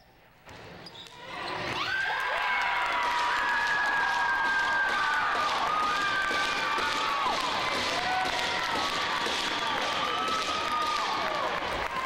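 A crowd at a women's sports game, the Xtreme playing the Warriors, erupts in loud, sustained cheering and shouting after a goal, with applause running under the roar for about ten seconds.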